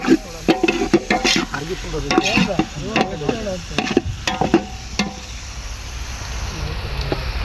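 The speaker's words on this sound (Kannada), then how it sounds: "ಈಗ ಎಣ್ಣೆ ಜೊತೆಯಲ್ಲಿ ಮಿಶ್ರಣ ಮಾಡಬೇಕು" Green chillies being mixed into oil in a pan, with a busy run of scraping and clattering strokes that trails off into a steady sizzle, close and fairly loud, with some talk mixed in.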